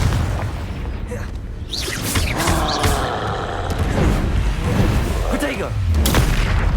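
Spell blasts and booming magical explosions from the Hogwarts Legacy video game, a dense run of close, loud impacts and bursts over continuous combat noise with a voice speaking at times.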